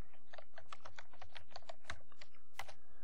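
Quick, uneven bursts of keystrokes on a computer keyboard while a name is typed into a spreadsheet cell, the clicks crisp and close with no talking.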